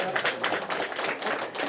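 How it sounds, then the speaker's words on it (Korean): Lecture audience applauding a professor at a unification academy session, a brief burst of many hands clapping steadily at moderate volume. "다시 한번 우리 교수님께 큰 박수 한번 부탁드리겠습니다."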